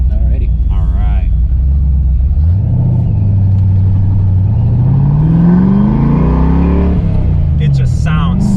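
A Ford Mustang Foxbody engine holds a deep rumble, then revs up and climbs in pitch before dropping back, loud and close, with a short voice at each end.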